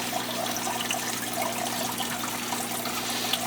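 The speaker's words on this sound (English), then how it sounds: "I really feel like my siphon is not drawing water out as fast as it should be." An aquarium gravel vacuum siphon draws water out of a deep sand bed tank, giving a steady, continuous watery rush with a low hum underneath, close and unbroken, with no talking.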